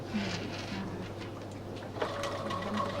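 A sewing machine stitches through a fabric bag with a steady, moderately loud mechanical whir and faint ticking, running continuously with no talk.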